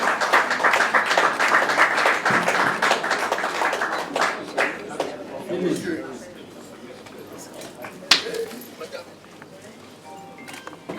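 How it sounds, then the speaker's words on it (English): Applause at a ceremony honouring a peace ambassador, with a dense burst of clapping that fades out over several seconds while voices carry underneath. "Can we give a round of applause?"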